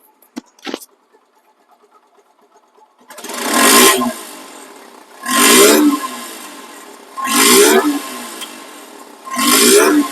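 A Suzuki Gixer SF motorcycle engine revs up four times in a row, each loud burst rising and falling back to a quieter idle, with a brief click at the start.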